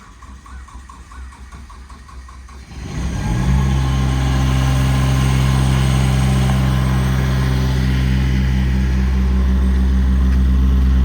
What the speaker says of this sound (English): We'll go ahead and start the engine.